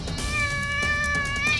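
A cat meows up in a tree, a drawn-out, wailing caterwaul that carries loud and close for nearly two seconds with no talk over it.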